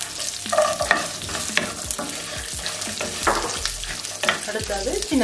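Garlic sautéing in a pan as the base for a ground-spice trevally fish curry, with green chillies and ginger: steady, loud sizzling and frying close up, with repeated scraping stirs against the pan and no talking.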